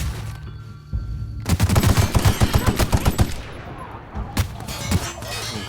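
Rapid automatic gunfire from a weapon in The Outer Worlds, a fast burst of a dozen or so close, loud shots lasting about two seconds, followed by a few scattered single shots.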